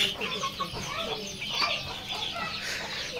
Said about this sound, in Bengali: লাল একটা মোরগ দেখতে পাচ্ছেন